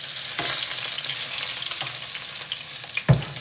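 Lamb shank searing in hot oil, a close, steady sizzle and crackle with a few sharp spits and one louder clatter near the end, no voices.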